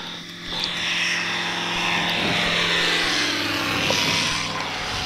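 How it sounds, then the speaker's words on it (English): Propeller plane lining up for takeoff at a busy airfield on a windy day, its engine drone steady and fairly close, rising slightly in the middle and tapering off at the end. "There's a plane lining up there to take off."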